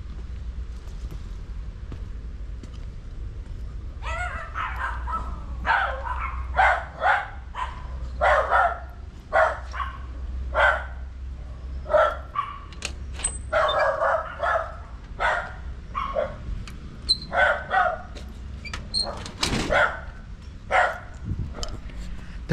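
Dog barking and yelping in a house near the center of Manaus, Brazil, a long run of sharp barks in irregular bursts over a low background rumble.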